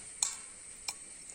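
Mustard seeds popping in hot coconut oil for pachadi, a faint sizzle punctuated by three sharp, isolated pops spaced across a brief moment, close and quiet.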